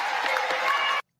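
Crowd at a Kamala Harris rally with running mate Tim Walz, a dense roar of cheering and applause, loud and sustained for about a second before cutting off abruptly.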